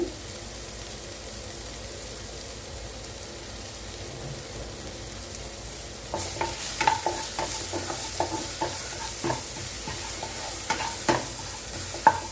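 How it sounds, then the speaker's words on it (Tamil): Chopped onion and green chili sauté in a pan, beginning with a faint low hiss and shifting to a brighter sizzle with repeated scraping stirs through the second half. "வெங்காயம் பச்சை மிளகாய் சேர்த்து நல்லா வதக்கி கொடுங்க"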